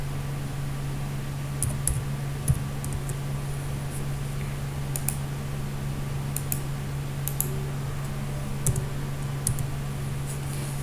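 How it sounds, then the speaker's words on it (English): Sparse clicks of a computer keyboard being typed on, short clusters of keystrokes over a steady low electrical hum, no talking. "Here I am typing a sentence."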